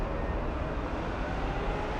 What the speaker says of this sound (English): bus revving up while that airplane was starting its roll